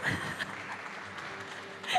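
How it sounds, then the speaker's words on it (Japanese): Applause from an audience at a Japanese unveiling of a life-size figure, moderately loud crowd clapping that runs steadily for a couple of seconds, slightly louder at the start and end. "皆さん拍手をお願いしま"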